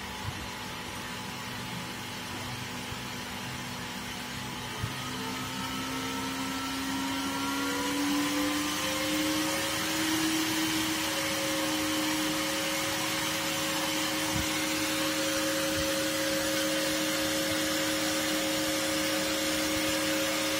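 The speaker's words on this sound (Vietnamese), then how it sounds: "Nghe tiếng quạt kêu và nhìn ở dòng này nó cũng tăng lên." A small electric fan running off an old charger adjusted to 12V whirrs steadily, its motor pitch sliding upward as the speed is raised, then holding a constant hum; no voices.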